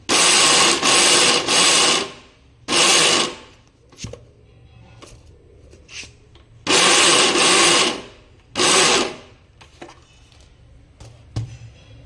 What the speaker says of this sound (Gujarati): તો આ રીતે ચાલુ બંધ કરીને આપણે પીસવાનું છે